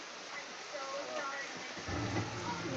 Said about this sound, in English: Nice heavy rain. A very nice heavy rain.